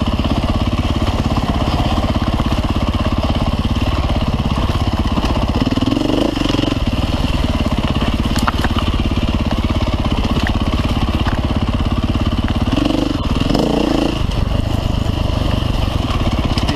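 Dirt bike ridden on the Snowshoe GNCC hare scramble course, its engine droning steadily and loudly throughout, with two brief revving surges partway through.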